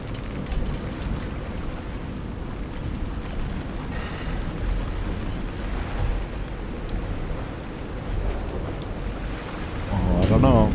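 A steady roar of storm wind and churning ocean waves from the video game Call of the Sea, broad and unbroken, with a creaking ship-like sound rising near the end.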